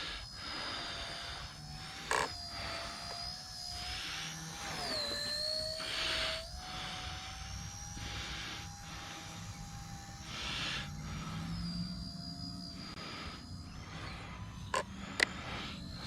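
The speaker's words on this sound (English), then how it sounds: "as you can see, it's still a snappy little heli. It moves pretty good." Small RC helicopter flying close by, its high rotor and motor whine steady with pitch swoops as it maneuvers, plus a few sharp clicks.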